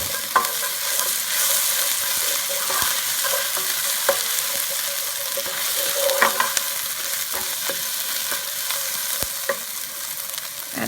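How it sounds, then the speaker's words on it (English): Okra curry with soft cooked tomatoes being stirred in a hot pot, a spoon scraping and clacking against the pot in irregular knocks over a constant sizzling fry, close and fairly loud. "I can mix everything together now."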